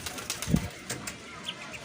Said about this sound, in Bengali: একটা বন্য ঘুঘু পাখির বাচ্চা